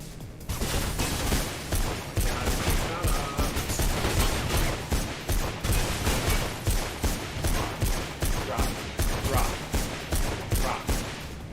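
Rapid machine gun fire in the Mirror's Edge video game, sustained loud bursts of rattling shots in steady rhythmic pulses running nearly the whole time, with faint voices underneath.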